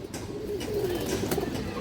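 Male khora-neck pigeon gives a low, close coo, a soft rolling call lasting about a second over faint background noise.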